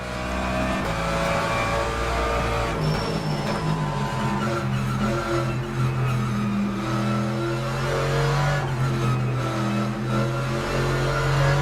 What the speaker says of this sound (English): Very, very low grumbly sound from this engine, which is exactly what you would expect from this car.